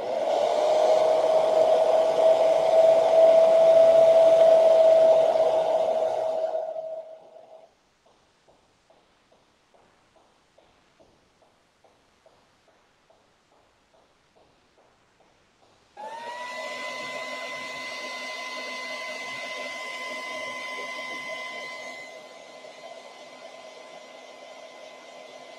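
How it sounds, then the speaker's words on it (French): A hair dryer blows hard and close for several seconds to dry paint on decor pieces, then cuts out, leaving a series of faint regular ticks. It starts again with a steady, slightly lower whine that softens toward the end. "On va de nouveau passer un petit coup de sèche-cheveux"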